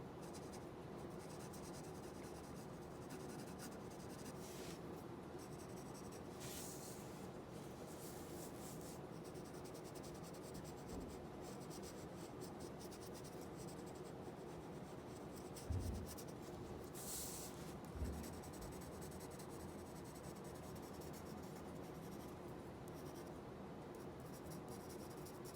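Graphite pencil held on its side, shading the underside of branches in a landscape drawing on paper, giving a soft continuous rubbing scratch with steady strokes, very quiet and close.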